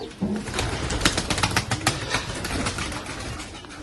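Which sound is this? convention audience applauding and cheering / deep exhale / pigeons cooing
pigeons cooing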